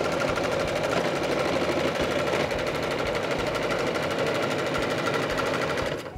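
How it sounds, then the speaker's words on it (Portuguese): A sewing machine stitching cotton fabric from a baby fabric collection runs in one continuous, steady, fast mechanical whir with a dense rapid rhythm, loud and close, slowing only at the very end. "enquanto ela vai costurando aqui"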